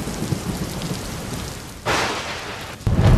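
A heavy afternoon downpour falls in Gujarat, a loud, dense, steady hiss of rain broken by two abrupt cuts, each followed by another burst of pounding rain.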